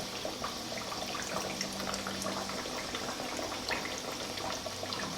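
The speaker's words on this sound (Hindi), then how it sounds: "अब हमारी ये पूरियाँ लो फ्लेम पर फ्राई हो रही हैं।" Kachoris fry in oil over a low flame, giving a steady, soft bubbling and fizzing sizzle that stays even and fairly quiet throughout with no talk.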